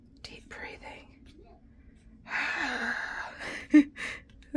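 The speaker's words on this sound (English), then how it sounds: "Heavy breathing." A person making cold process soap breathes heavily and deeply, with long, loud, airy exhales and a few sharp gasping intakes close up, after quieter whispery breaths.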